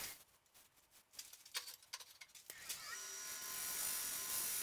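A scraper shears across a honey locust burl bowl spinning on a wood lathe, first in short broken scratchy strokes, then settling into a continuous faint hiss of steel on wood.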